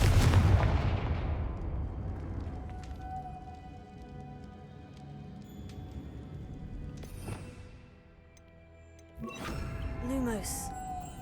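The Confringo blasting spell goes off in Hogwarts Legacy as a loud explosive burst at the start that decays into a rumbling tail, followed by further softer blasts and crackles, with a voice speaking briefly.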